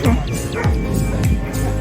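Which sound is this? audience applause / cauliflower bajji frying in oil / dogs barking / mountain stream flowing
dogs barking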